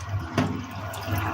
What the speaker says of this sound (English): I'm just going to go ahead and rinse them off because they've been soaking in salt